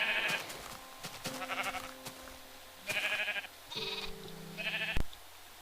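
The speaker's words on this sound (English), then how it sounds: "there's just a giant amount of sheep in there" Sheep bleating in the Minecraft video game, several separate bleats in an irregular rhythm with short pauses between them, fairly close and clear with no talk.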